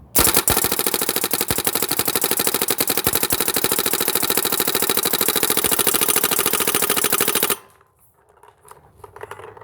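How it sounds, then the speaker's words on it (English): Rapid-fire paintball shots from a GoG EXTCY marker fed by a JT Triad loader, capped at 20 balls per second, form a loud, continuous mechanical rattle for about seven seconds before stopping abruptly. "let's see what this JT Triad loader can do on this GoG EXTCY marker"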